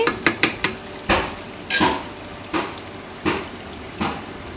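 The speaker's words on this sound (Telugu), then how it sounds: "ఇప్పుడు ఒకసారి మొత్తంగా కలిపేసుకొని ఈ చికెన్లోకి మనం వంకాయ ముక్కల్ని యాడ్ చేసుకుందామండి" Utensil scraping and clinking in a pan as chicken curry is stirred and brinjal pieces go in, a run of quick sharp clatters followed by slower, spaced knocks, close and fairly loud with no talk.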